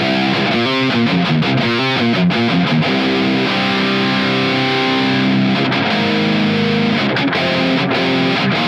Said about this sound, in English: So first I'll turn it off and play it in normal.